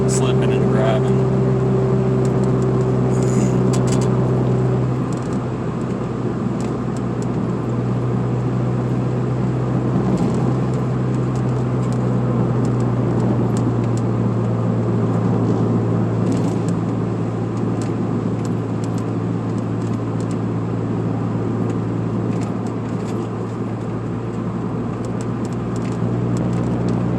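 A car with a slipping clutch drives along a road, giving a steady, loud engine drone with road and wind rumble throughout, a tonal whine easing off early on.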